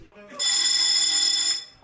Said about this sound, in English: I hear the buzzer. It's time to go.